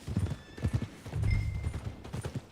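Horse hooves clip-clop in Red Dead Redemption 2, a run of close, rhythmic hoofbeats in uneven clusters with a snort or whinny, without speech.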